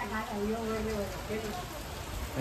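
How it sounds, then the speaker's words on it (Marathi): Rain patters steadily onto a terrace in the background while a person talks over it. "इकडं बघा पाऊस बघा"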